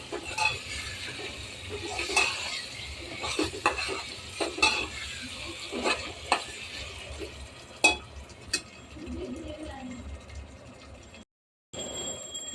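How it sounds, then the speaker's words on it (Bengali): Peas frying with spices in a pan for matar pulao, with a soft sizzle under repeated scraping and clinking stirs of a utensil against the pan, close and moderately loud, ending in a brief silence. "যেহেতু মটর পোলাও তৈরি হচ্ছে তাই মটরটাকে একটু মশলার সাথে ভেজে নেব।"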